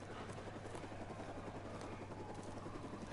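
A helicopter in the video game Days Gone flies overhead, giving a steady, dense rotor and engine drone that stays constant and fairly loud for the whole stretch, with no voices over it.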